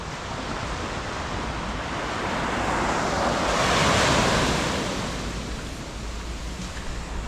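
Steady roar of surf washing onto Puerto Azul Beach in Ternate, Cavite, Philippines, swelling and easing gently, with wind hiss and no voices.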